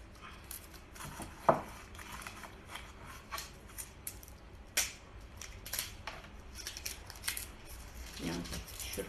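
Bay leaves are torn by hand into a jar for cold-process soap, making faint, scattered crisp snaps and crackles against quiet room background.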